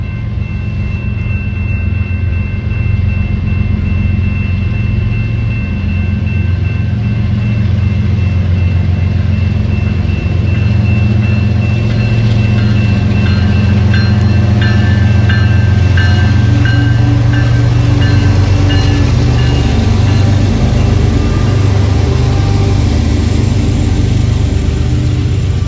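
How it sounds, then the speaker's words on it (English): Southbound freight train B790 bound for Schiller Park, Illinois, starts rolling again from a siding, a loud, sustained rumble of engines and wagons with rising tonal whine and clanks building over the whole stretch. "the train started moving again. This was southbound train B790 going to Schiller Park"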